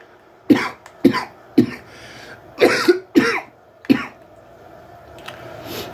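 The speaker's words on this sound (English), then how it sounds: "And I can't get rid of this cough" Repeated harsh coughing from someone with a chest infection, six or so close, loud bursts in an uneven rhythm with brief throat-clearing, no talking.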